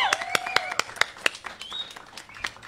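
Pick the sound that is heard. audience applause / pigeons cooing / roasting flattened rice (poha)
audience applause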